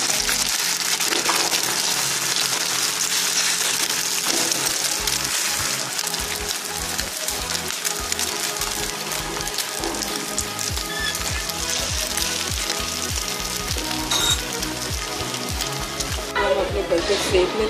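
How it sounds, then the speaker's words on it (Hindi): Beaten egg seasoned only with salt sizzles loudly and continuously on a hot oiled griddle, close up, with steady tonal background sound underneath. "ये मैं फेंटा हुआ अंडा डालूंगी जिसमें मैंने सिर्फ नमक ऐड किया है और कुछ नहीं।"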